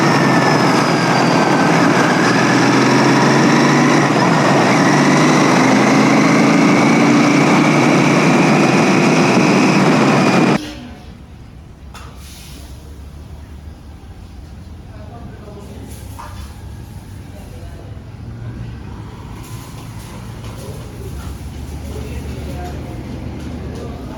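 Heavy road traffic with loud rumbling engines on an under-construction road between Delhi and Jammu, a dense continuous roar for about ten seconds that suddenly cuts to a quieter, muffled background with faint voices.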